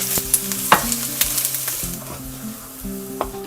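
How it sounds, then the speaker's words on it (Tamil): Semolina (rava) roasting in oil over medium heat in a pan for rava idli, a steady close sizzle with repeated scraping stirs and spoon clicks against the pan, no talking. "ரவையை சேர்த்து மிதமான தீயில வச்சு அதனுடைய நிறம் மாறாம வறுத்து எடுக்க போறோம்"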